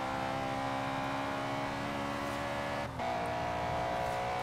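A racing car engine roars continuously in a video game, a loud steady high-revving drone at speed with a brief dip near the end, no talk over it.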